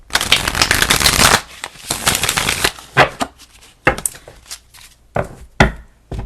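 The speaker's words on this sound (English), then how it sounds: "Let's pull some tarot." Tarot cards are shuffled by hand, first in a long, dense riffling burst and then in a string of short, crisp slaps and flutters at uneven intervals, close up and with no talking.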